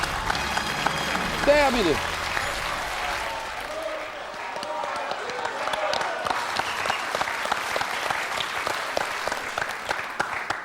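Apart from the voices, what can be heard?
studio audience applause for a quiz contestant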